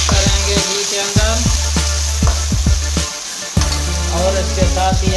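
Grated onions fry in hot ghee in a kadai, a loud continuous sizzle broken by repeated scraping taps of a spoon stirring them, close up.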